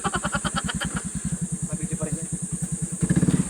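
A motorcycle engine idles close by with a steady pulsing chug, the beat quickening slightly and swelling louder near the end as it is revved.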